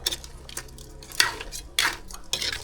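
A metal pot on a rural cooking fire is covered with its lid, giving several clanks and scrapes of metal on metal at close range, with sparse quiet pauses between.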